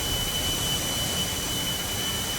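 An army plane's jet engine in the Teardown video game roars as a continuous, even, loud rush with a thin high whine, steady throughout with no talking.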